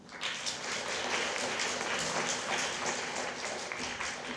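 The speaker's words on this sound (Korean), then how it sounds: "모모팀에게 격려의 박수 부탁드립니다" A university audience applauds a presenting student team at a leadership case competition, a steady wash of many hands clapping at moderate volume for several seconds.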